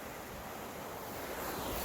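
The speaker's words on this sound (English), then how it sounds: "all the water right now is coming down, pooling up in here and going right through the spillway opening" Water rushing steadily through the opening of an old dam spillway beside a small generator plant, a constant broadband roar that swells slightly toward the end, with no voices.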